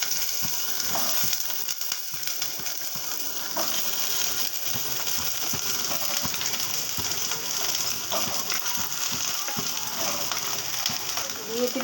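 Diced eggplant frying in a pan, a continuous crackling sizzle at moderate volume with light stirring noises throughout.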